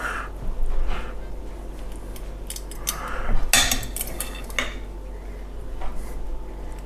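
Metal tongs clatter against a pan while pork chops are set in, with several close clinks and scrapes over a steady low hum.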